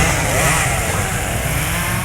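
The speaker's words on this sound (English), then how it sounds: "It's a chainsaw, genius." A chainsaw runs steadily and loudly up close, a continuous buzzing engine roar with no break.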